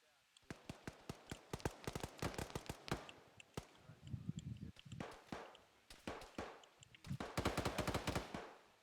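Rapid automatic gunfire in a military video game, with bursts of sharp, loud shots in quick rhythmic runs and short pauses between them, close and dominant in the mix.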